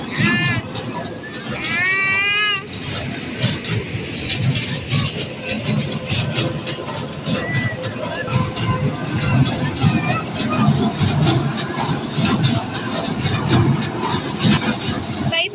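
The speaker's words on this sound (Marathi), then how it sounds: "आणि इथं ट्रेन चालू आहे" A toy train at an amusement park runs at dusk, its rumble blending with dense crowd chatter and fairground noise, with a few high whistle-like tones near the start.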